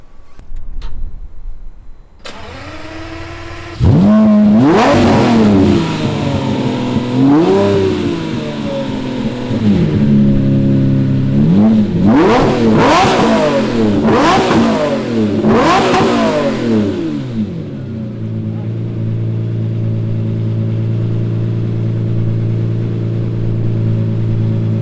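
Lamborghini Murciélago V12 blipped hard in a series of sharp, loud revs close by, each snapping up and dropping back, then settling into a steady throbbing idle.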